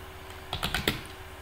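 Short burst of keystrokes on a computer keyboard while code is entered, a handful of close clicks clustered together amid a quiet room hum.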